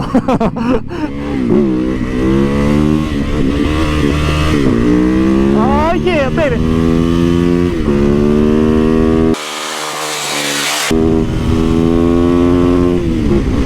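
An adventure motorcycle engine revving hard while riding off-road, loud and close, rising and falling through the revs with wind buffeting; a man briefly cheers over it near the start.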